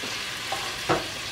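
Lamb shank cooking in a pot, giving a faint, steady sizzle with a couple of brief stirring clatters near the middle and end, and no voices.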